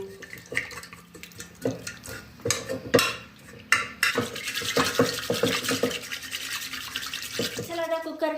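Cooked dal (lentils) is mashed in a pot with a utensil, giving rhythmic scraping and knocking strokes that come and go, close up, with a voice talking between and over the strokes.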